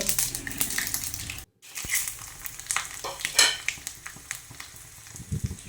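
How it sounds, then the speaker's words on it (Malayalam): Mustard seeds and dried red chillies crackle and sizzle in hot coconut oil, a busy spitting fry with scattered pops and a brief stir of a pan, no voices. "വെളിച്ചെണ്ണയിലാട്ടോ വറവിടുന്നത്. അപ്പം കടുക് പൊട്ടിക്കണേ."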